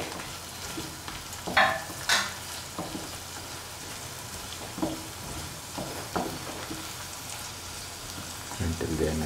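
Pieces of taro root fry in a pan with a soft, steady sizzle, broken by scattered stirring clatters and occasional louder spatters.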